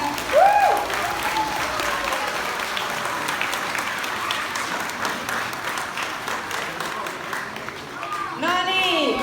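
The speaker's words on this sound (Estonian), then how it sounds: "Teeme esialgu suure aplausi kõigile julgetele isadele." An audience at a school's Father's Day party at Kuristiku Gymnasium in Tallinn gives sustained, dense applause for the fathers, with a voice briefly speaking at the start and again near the end over the clapping.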